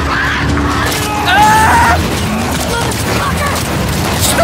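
Gunfire from The Last of Us Part 2 zombie game breaks out in several loud bursts over a busy game soundscape while a player talks.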